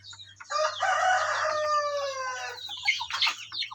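A young native rooster (stag) gives a single loud, close crow with a rising, harmonic-rich call lasting about two seconds. Softer clucking and broken calls follow, over a low steady hum.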